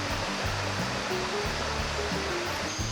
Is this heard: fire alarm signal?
no